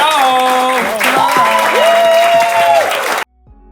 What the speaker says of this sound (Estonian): Suur aplausi.